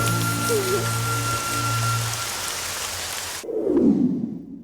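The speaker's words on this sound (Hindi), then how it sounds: "आज बारिश होगी?" Steady rain falls loud and close, a dense hiss under faint tonal hum, then cuts abruptly to a muffled, lower rumble for the final second.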